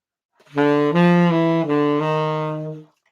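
A short bebop line of four connected notes, an enclosure of the third of the ii chord, played smoothly on a single melodic instrument, clear and up close with nothing else around it.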